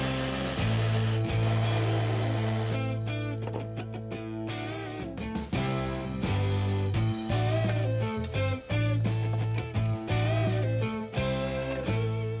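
A ratchet loosens the bolts of a factory fog light on a 2021-or-later Ford Bronco, giving rapid clicking pawl sweeps in repeated strokes, close and clear, with a short pause between passes.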